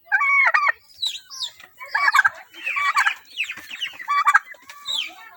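Chickens and turkeys at a poultry seller cluck and squawk in short, loud, close bursts, with brief gaps between calls and hardly any talk.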